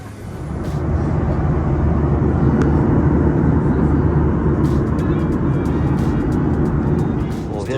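A jet airliner touching down and rolling out on landing at Riga produces a loud, broad rumble of engines and runway roar heard from inside the cabin, with scattered clicks and rattles toward the end.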